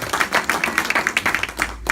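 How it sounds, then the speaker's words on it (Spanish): A church congregation claps in a quick, fairly even rhythm, close and lively, with the clapping cut off abruptly near the end. "Denle un aplauso al Rey, por favor"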